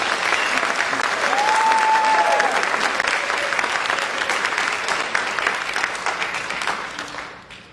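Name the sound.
audience applause for orchestra students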